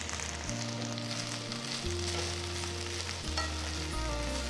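Fresh mint, chopped coriander and fenugreek leaves frying in a teaspoon of sesame oil in a pan, a loud continuous sizzle with stirring over a steady low hum, no voices.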